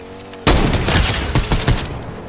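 A loud sniper rifle shot in Fortnite opens sharply, followed by a few more booming impacts and rumbling echoes over about two seconds, with no talking.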